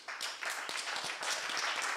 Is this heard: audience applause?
yes